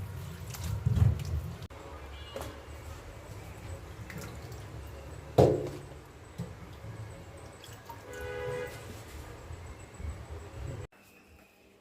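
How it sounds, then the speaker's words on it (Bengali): Water lily stems being washed in water, with gentle splashing, trickles and drips close by in a quiet kitchen, one louder splash midway and a short fill-like burst near the end. "শাপলাগুলো ধুয়ে নিচ্ছি।"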